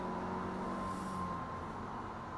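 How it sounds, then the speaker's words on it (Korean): A Mercedes-Benz SLK 200 BlueEfficiency sports car engine holds a steady, sustained drone with a faint whine above it under acceleration, moderately loud and continuous, no voices. "가속 페달을 밟으면 이런 다이나믹한 소리가 아주 저 깊은 데서부터 올라오죠"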